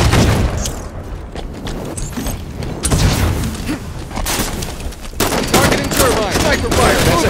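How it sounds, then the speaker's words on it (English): Rapid gunfire and booming weapon shots from a Halo 5: Guardians online multiplayer Slayer match on the Eden map, including sniper fire, crackle densely and loudly throughout with game effects and some voices mixed in. "Sniper fire!"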